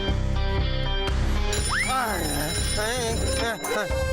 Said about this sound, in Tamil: நான் உடனே லட்டு சிங் சாருக்கு ஃபோன் பண்றேன்